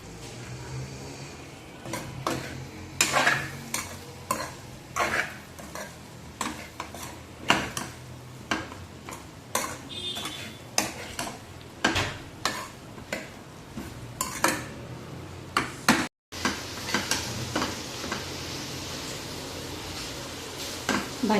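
A wild monsoon vegetable is tossed into a pan and stir-fried, with repeated clinks and scrapes of a spoon against the pan in a steady rhythm, fairly close.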